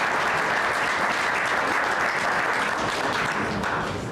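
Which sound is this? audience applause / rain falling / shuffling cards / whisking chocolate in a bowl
audience applause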